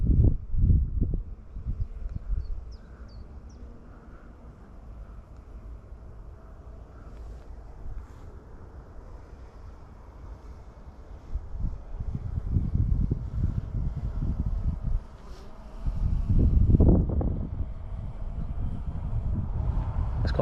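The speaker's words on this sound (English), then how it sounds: "It's quite breezy luckily today" Breezy outdoor wind on a warm day buffets the microphone in low rumbling gusts, rising to strong bursts near the start and toward the end.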